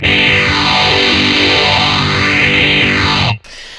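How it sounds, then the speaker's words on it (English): A heavily distorted electric guitar through a distortion pedal with a Phase 90 phaser holds a dense, loud chord with a slow sweeping swirl before stopping suddenly, leaving faint noise. "And then the distortion side sounds like this."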